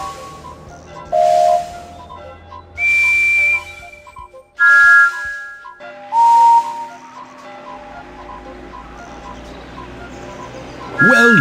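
Thomas the Tank Engine's whistle in a Thomas & Friends video game, several short bright toots sounding one after another with brief gaps between, clear and prominent over light musical backing.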